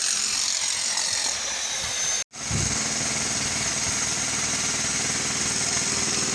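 Continuous loud drilling at the Mirpur bridge construction site, a dense mechanical rattle and grind broken by one brief gap before it resumes, with no voices.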